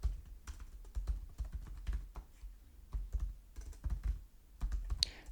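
Steady typing on a computer keyboard while entering an email address, a dense run of close, crisp keystrokes with brief pauses and no talking.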